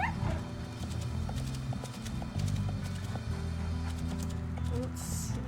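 Elk hooves running in the video game WolfQuest: Aurora Pack, a rapid drumming of hoofbeats over low rumbling noise, with a few sharp higher calls mixed in.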